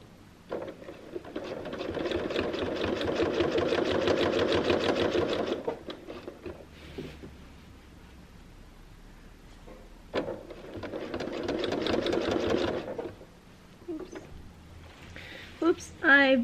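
Sewing machine free-motion quilting with a Clarity ruler foot, stitching fast in two long sustained bursts separated by a pause, with rustling of the quilt being moved between runs.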